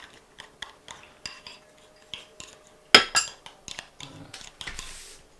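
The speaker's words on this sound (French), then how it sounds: "Et tu mélanges pour que ça fasse des œufs, la mayonnaise ensemble." Cutlery mixing egg yolks and mayonnaise in a dish for deviled eggs: repeated light scraping and clinking taps at an irregular rhythm, with one sharper clatter partway through.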